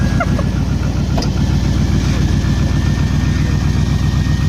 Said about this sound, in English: And then you go and turn the key.